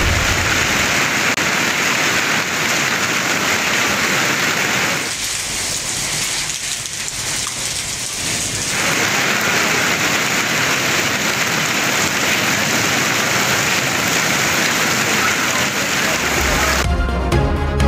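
Steady heavy rain in Daska, Sialkot, pouring continuously as a loud, dense hiss of drops on surfaces, with a brief dip in intensity midway and a sharper burst of spatter near the end.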